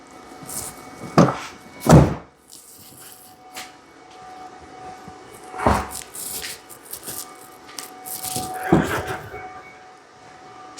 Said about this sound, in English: Opening the right front door and closing the right front door.